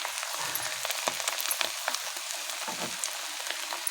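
Egg sizzles and crackles in a hot pan while egg noodles are being made, with a constant frying hiss broken by scattered pops and soft stirring scrapes, heard close up with no talking.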